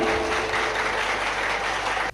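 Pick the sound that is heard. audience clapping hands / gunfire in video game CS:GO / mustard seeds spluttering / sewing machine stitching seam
audience clapping hands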